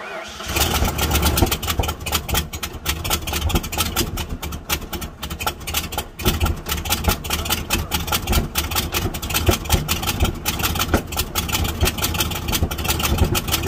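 A Bush truck engine idles roughly close by, a dense, pulsing mechanical rumble that runs continuously with slight surges, as if under light throttle, with some talk over it.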